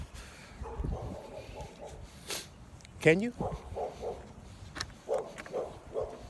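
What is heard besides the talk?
dogs barking and whimpering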